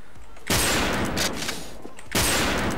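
Video game gunfire while landing headshots, two loud bursts of rapid shots, one starting early and another near the end, with clattering tails between them.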